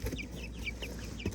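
Chickens kept in a winter coop in northern Wisconsin cluck in short repeated bursts at a steady close distance over a constant low hum, with no voices.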